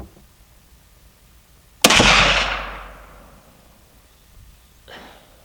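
A single sharp gunshot from a 450 Bushmaster rifle firing Barnes 250-grain TTSX ammunition cracks loudly outdoors, then rolls off in a long decaying echo, with a faint distant return a few seconds later.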